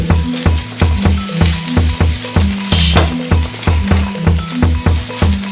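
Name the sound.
chopped green chillies sizzling as they are added to the pan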